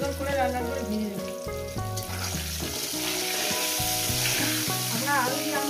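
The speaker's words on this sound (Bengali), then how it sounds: "দিয়ে দেবো একটু হলুদের গুঁড়ো, সুন্দর করে লাল লাল করে ভেজে নেব" Turmeric and spices for chicken curry fry in a pan with a steady, close sizzle throughout, partly masked by prominent background music with sustained melodic notes.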